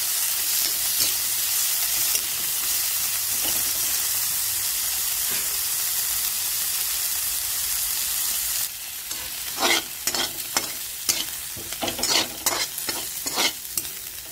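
Onions sautéing in a pan until pink for chicken curry: a steady close sizzle and hiss, then sharper, irregular stirring scrapes through the second half.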